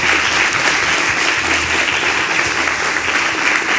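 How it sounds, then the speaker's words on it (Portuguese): A church congregation claps steadily and loudly for the full few seconds, a continuous wash of applause with no break. "Vamos aplaudir a palavra de Deus, em nome de Jesus?"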